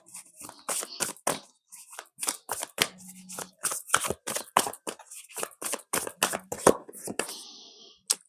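Tarot cards shuffled by hand in quick, crisp riffling bursts that repeat steadily throughout, close and fairly loud with no talking.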